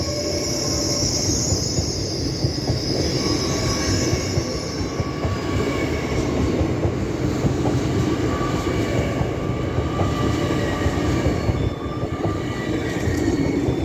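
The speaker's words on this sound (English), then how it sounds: "Now departing is 801-202 with a LNER service to Edinburgh Waverley." LNER electric train 801-202 pulls out of Doncaster station on a service to Edinburgh Waverley, a loud steady rumble of wheels on rail with high, drawn-out squeals over the top, heard nearby.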